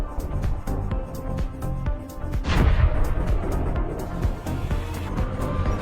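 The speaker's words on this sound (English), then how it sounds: "The AFU artillery immediately attacks the stalled armored vehicles." Ukrainian artillery fire strikes stalled armored vehicles in a combat zone, a dense continuous barrage of booms and gunfire cracks with a heavier blast near the middle.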